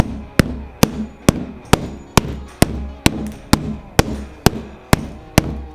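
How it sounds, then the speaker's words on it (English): Hammer blows strike a rugged laptop billed as the world's toughest, about thirteen sharp, loud impacts at a steady rhythm roughly every half second, each with a short ringing decay and no talk. "So you can't like full force hit it with a hammer."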